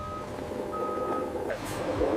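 An olive transport truck at an olive processing factory sounds its reversing alarm, a faint repeated high beep over a low idling engine rumble.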